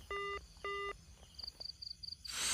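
After a hang-up, a phone line sounds two longer electronic tones followed by a quick series of short beeps, quiet and close, ending in a swell of noise.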